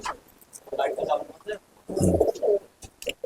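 Pigeons coo softly in a loft in a few short, low, throaty bursts, close by and mixed with brief rustling.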